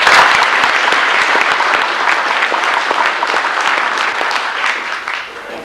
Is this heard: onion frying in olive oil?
no